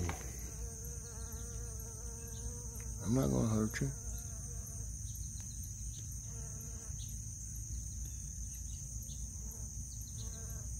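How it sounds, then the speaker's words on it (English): Steady buzzing of bees on blue flowers in a vegetable garden hums through the background, with a brief spoken remark partway through and faint outdoor ambience around it. "bees liking this"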